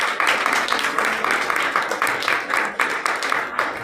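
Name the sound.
played applause recording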